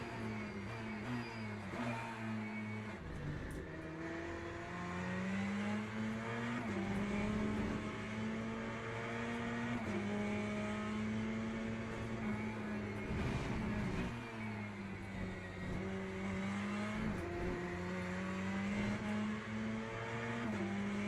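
A Corvette race car engine in the Le Mans Ultimate racing game, a sustained droning engine note rising and falling with shifts through the gears, steady and fairly quiet with no talk.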